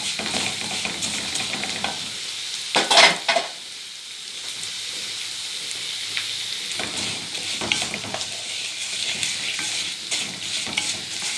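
Vermicelli frying in ghee and oil in a pot, a steady crackling sizzle with a burst of stirring and scraping near the start, then a constant hiss, close up and without speech.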